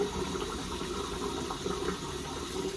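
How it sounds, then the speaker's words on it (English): Tap water running steadily while rinsing off after a wet shave with Stirling Ozark Mountain soap, a close, continuous splashing flow with no talking. "I'm gonna go ahead and rinse off"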